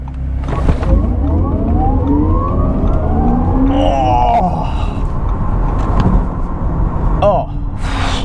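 An Audi RS e-tron GT Performance electric car accelerates hard, its rising synthetic whine sweeping upward under loud road and wind roar, with a person talking over it.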